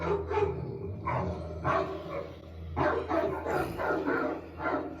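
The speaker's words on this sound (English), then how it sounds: "And there's a dog barking." A dog in a fantasy TV drama episode barks in a series of repeated short bursts at moderate distance over a low background rumble.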